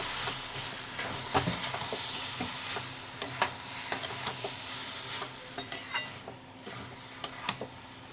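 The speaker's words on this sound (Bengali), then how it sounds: "অল্প একটু ঘি দিয়ে দেব দিয়ে আবারও ভালো করে নাড়াচাড়া করে নেব" Cabbage, egg and potato cooked with ghee are stirred in a pan, giving a gentle sizzle with repeated clinks and scrapes of a spatula against the pan at an uneven pace, with no talking.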